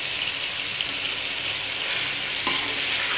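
Chicken karahi fries in a pan with white cumin and salt, giving a dense, continuous sizzle that stays loud and even from start to finish, with one faint clink near the end and no voices.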